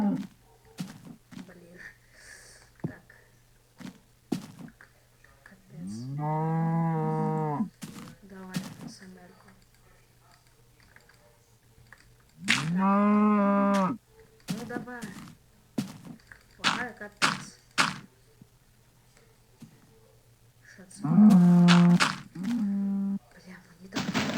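In the video game Minecraft 1.0.0, a cow lets out three drawn-out moos spaced several seconds apart, broken up by short thuds and knocks, while a person talks in between.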